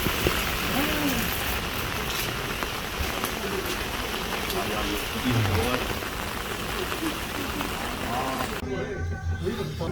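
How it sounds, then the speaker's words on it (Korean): Heavy rain pours steadily on a city street outside a restaurant, a dense, continuous hiss of drops pattering on surfaces, with faint voices talking in the background throughout. "지금 비가 엄청 오는데"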